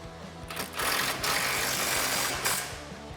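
A 15mm socket drives down a bolt on an SR Performance height and damping adjustable coilover fitted to a 2015-2020 car, giving a loud, steady mechanical whirring burst of about two seconds over low rhythmic rattling, with no talk.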